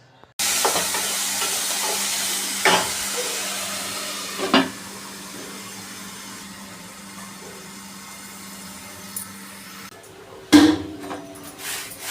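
Potatoes fry in oil with a steady, close sizzle that runs the whole way through, broken by a few clinks and knocks of a utensil against the pan and a louder clatter near the end.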